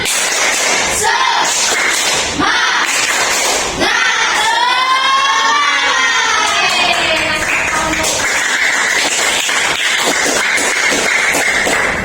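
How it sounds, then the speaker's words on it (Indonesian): A school class chants a spirit-clap routine together, a loud crowd of young voices with rhythmic claps and shouts, one long sung phrase rising in the middle. "mari kita tepuk semangat lagi sekali lagi, oke? Tepuk semangat."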